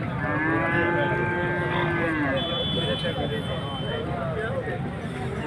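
Calves and cattle moo at a busy livestock market in Dera Ismail Khan, with several long, overlapping lowing calls sounding close. A steady hubbub of crowd noise runs underneath.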